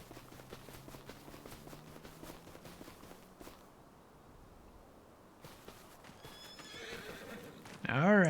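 Horses in the Farming Simulator 25 game, with hooves clip-clopping steadily for several seconds, then a loud, close whinny bursting out at the very end.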